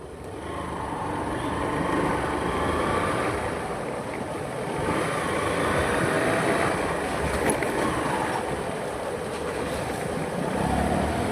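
A vehicle climbing an uphill road in second gear, heard as a steady, loud, continuous engine and road rumble throughout, with no talking.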